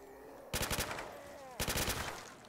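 P90 submachine gun fire in Black Ops 3 custom zombies on a London Docks map: two loud rapid bursts of about five shots each, separated by a short pause.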